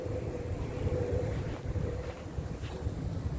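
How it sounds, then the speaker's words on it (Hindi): Wind blows outdoors and buffets the microphone in a constant low rumble with gusty swells. "आज हवा चल रही है बड़ी अच्छी"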